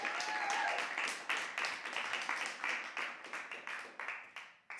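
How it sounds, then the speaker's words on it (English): A round of applause from an audience at a poetry reading for Elizabeth, a steady wash of many hands clapping that tapers toward the end into a few scattered claps, with no one speaking over it. "Another round of applause for Elizabeth."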